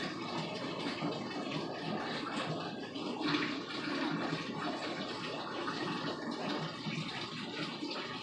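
Water pours steadily into a fish tank or bag, a continuous close gushing and splashing that holds at an even level throughout, with no talk.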